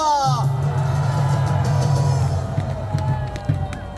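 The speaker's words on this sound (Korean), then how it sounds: "다시 큰 박수 한번 해주시기 바랍니다" A rally crowd opposing President Yoon Suk-yeol's impeachment applauds and cheers loudly. The roar of clapping and voices stays steady and dense for several seconds, with a low hum underneath.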